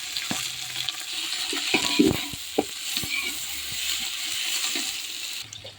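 Onion frying in a little oil with fenugreek seeds and vadagam for a Tamil dried-fish kuzhambu, a steady soft sizzle with scattered clinks and stirring scrapes from a spoon against the pan, close by and without talk.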